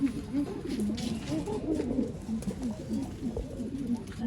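Pigeons kept as breeding pairs in a Bangalore loft coo repeatedly in soft, rolling low phrases, several birds overlapping at close range with a faint background murmur.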